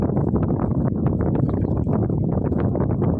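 Steady, loud wind rushes across the microphone at sea aboard a small fishing boat, a continuous buffeting roar with gusty flutter and no voices.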